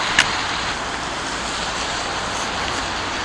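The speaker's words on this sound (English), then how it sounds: "excuse the noise, but I'm right in the heart of Norwich now on the inner ring road" Steady, loud roar of road traffic rushing past on the inner ring road in Norwich, a continuous wash of engine and tyre noise with no voices.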